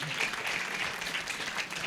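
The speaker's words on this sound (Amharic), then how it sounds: "አጨብጭቡ ለጌታ ክብር።" A church congregation at a gospel service claps in praise, a dense, sustained wash of applause from many hands, close and steady throughout.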